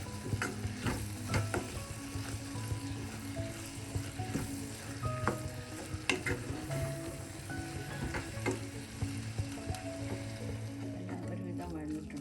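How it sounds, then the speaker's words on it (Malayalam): Masala mixed in hot, well-heated oil in a pan for a potato and egg curry: repeated scraping and clattering spoon strokes over a steady sizzle, close, with a low background hum and a faint voice now and then. "ഈ സമയം എല്ലാം കൂടെ ചേർത്തൊന്ന് മിക്സ് ചെയ്യും."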